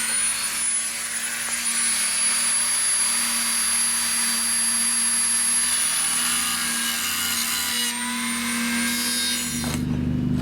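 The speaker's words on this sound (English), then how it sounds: "you're going to take your Dremel tool and cut it" A Dremel rotary tool cuts through a metal spoon being made into a ring, giving a loud, continuous high-pitched whine with grinding that holds steady for about ten seconds, then cuts off abruptly.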